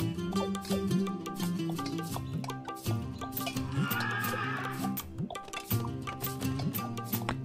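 Horses neighing as they die during a competitive 0 A.D. real-time strategy match, several whinnies overlapping in quick succession against a busy battle backdrop of clip-clop and game effects, fairly loud and continuous.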